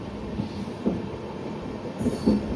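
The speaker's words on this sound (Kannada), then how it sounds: "ತುಮಕೂರು ಬಾನಸವಾಡಿ ಮೆಮೊ ಟ್ರೈನ್ ನಾವೀಗ ಅಲ್ಲಿ ಕ್ರಾಸ್ ಮಾಡ್ತಾ ಹೋಗ್ತಾ ಇದ್ದೀವಿ ಹೆಬ್ಬಾಳ್ದಾಗ" A Tumkur–Banaswadi MEMU train passes at Hebbal in Bengaluru, giving a steady low rail rumble with a few soft thumps of wheels on the track. It is heard from nearby and alone, with no talk.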